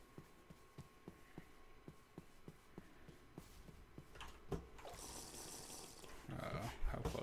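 Water sounds in a modded Minecraft (RLCraft) world as the player wades into water, beginning with faint regular footstep-like taps, then a soft splash and rising gurgling, sloshing water that grows louder toward the end.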